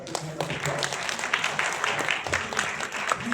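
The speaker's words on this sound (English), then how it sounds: "please give Mr. Tan a big hand of applause" An audience at an e-invoice business workshop applauds a presenter. Scattered, crisp claps blend into a moderate round, with voices mixed in throughout.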